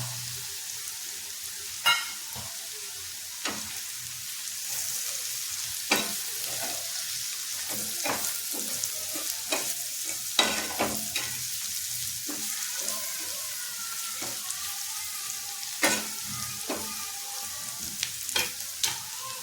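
Ground turmeric, garam masala, coriander powder and red chili fry in a pan for a dried-fish stir-fry, a soft sizzle under repeated scraping stirs and clicks of a spoon, close and steady with no talk.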